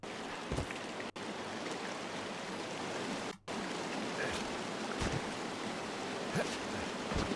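Creek water flows in the Firewatch video game, a steady rushing burble heard up close with a couple of brief gaps and faint soft thumps, no talking over it.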